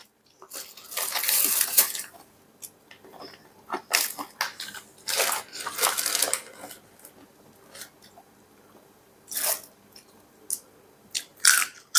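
Someone eats rice with pla ra fermented fish sauce and plenty of roasted rice powder, with close, irregular crunchy bites and chewing arriving in short bursts separated by quiet pauses.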